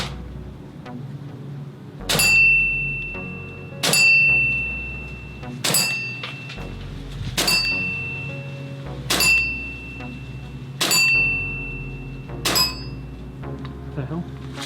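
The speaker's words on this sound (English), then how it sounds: "we're shooting at a little target 4 inches in diameter, 35, 40 feet maybe" A CO2 airsoft pistol firing 0.3 g BBs at a small metal target about 35 to 40 feet away: nine sharp cracks at roughly two-second intervals, each with a faint ringing ping, amid quiet voices.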